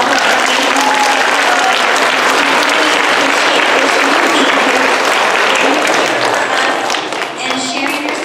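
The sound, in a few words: audience applause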